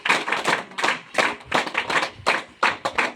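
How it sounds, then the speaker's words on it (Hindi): Students at a government high school in Kharli clap to welcome a retired teacher, a loose, uneven patter of individual hand claps in bursts, close and fairly loud with no voices over it. "तो तालियों से स्वागत करिएगा।"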